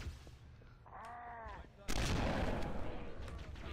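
Gunfire in Halo CE: a short tonal whine first, then a loud sudden burst of shots and crackling impacts that continues densely to the end.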